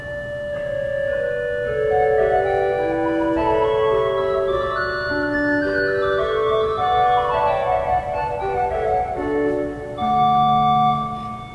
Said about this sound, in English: Next we have a 4-foot flute